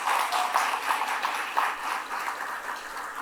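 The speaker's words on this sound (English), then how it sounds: "Let's give them a round of applause for the work that they're doing" An audience at a downtown business forum gives a round of applause: a brief, even wash of many hands clapping, moderately loud and steady throughout.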